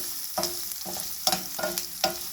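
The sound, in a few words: garlic sauteing in a pan for gongura pickle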